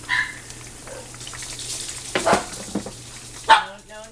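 A dog barks a few times, short sharp barks, over a low background hiss of cooking.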